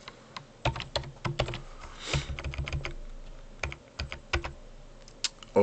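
Typing on a computer keyboard while writing chemistry notation in an equation editor, with clusters of close, crisp key clicks coming in irregular bursts separated by short pauses, with no voices.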